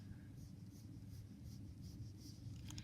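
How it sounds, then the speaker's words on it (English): A pencil drawing on paper over an eye sketch, soft repeated scratchy strokes in a steady back-and-forth rhythm, faint and close against low background hum, with no voices. "I'm going to draw on top of the drawing we did in class."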